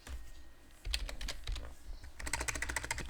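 Keys clatter on a computer keyboard while a package name is entered in Linux Mint Debian Edition 7, with sparse close keystrokes at first, then a quick dense run of typing near the end.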